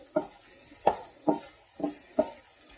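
Shrimp sizzle in a hot pan as they are stirred, giving five distinct scraping stir strokes at a steady rhythm over a soft background sizzle, close and fairly loud.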